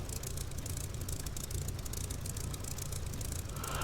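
A Spitfire LF IX engine runs in the DCS flight simulator, a steady, close, rumbling drone with a fast rattling pulse, constant and fairly quiet throughout.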